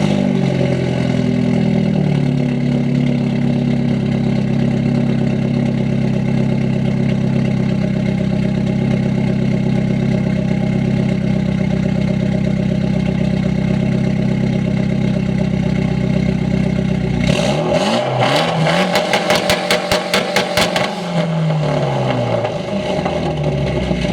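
A 2015 Mitsubishi Lancer Evolution X engine idles steadily and close up for a long stretch, then rises into a few sharp, loud revs before dropping back to idle.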